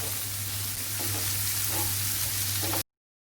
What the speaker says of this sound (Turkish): Biraz soğan ve biber yumuşayıncaya kadar böyle kavuruyorum.